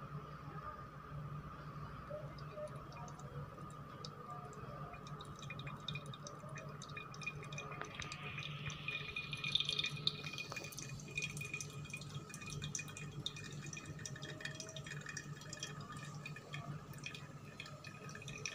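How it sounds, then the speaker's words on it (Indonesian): Hot water poured slowly in circles over manual-brew coffee, a faint, continuous trickle and drip that swells briefly midway before settling back to a soft, steady flow. "Tuang airnya juga sedikit-dikit dan gerakannya memutar."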